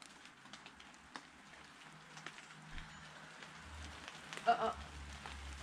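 Rain falls on a tent at a Lake Tahoe campsite, light scattered pattering with a few louder drops and a brief swell near the end, faint and close under occasional quiet movement.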